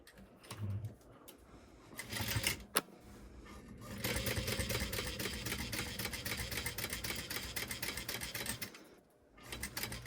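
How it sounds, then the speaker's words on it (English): A sewing machine runs a line of top stitching on fabric, starting with a few short bursts and a sharp click, then a steady fast whirring rattle for several seconds before stopping, close and alone. "And I'm going to stitch just on the same line as my top stitching."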